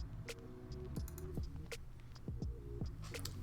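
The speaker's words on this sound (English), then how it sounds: "So the next thing I need to do is just start typing." Keys are typed on a computer keyboard while working in AutoCAD, giving a quiet, irregular run of light clicks close by over a low background hum.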